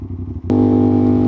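An Aprilia RS660 motorcycle engine heard up close, a lower running drone that abruptly jumps to a loud, steady high-revving tone.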